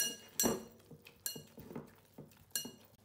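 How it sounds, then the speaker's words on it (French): Spoon or whisk clinking against a bowl while cupcake batter is mixed, three sharp knocks about a second apart with softer scraping between, close and fairly quiet. "Je vais bien mélanger."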